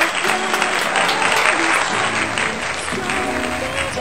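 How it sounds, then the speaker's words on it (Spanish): Lively audience applause greeting a contestant at a singing show, steady and fairly close, with faint voices and tonal background sound underneath. "un fuerte aplauso,"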